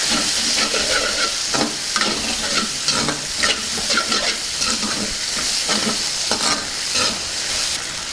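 Boti fry with mint is stirred in a pan, a ladle scraping and clattering in an irregular rhythm over a constant close sizzle of frying.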